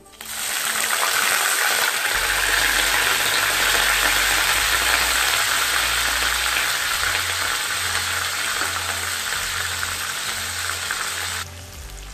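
Loud, steady sizzling of grated onion frying in a hot pan, a continuous crackling hiss that holds for several seconds before easing slightly at the end.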